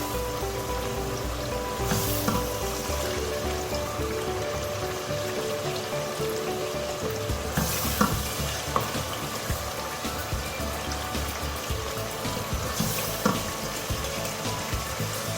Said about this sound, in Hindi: दो से 3 मिनट तक मसालों के साथ भूनेंगे इसको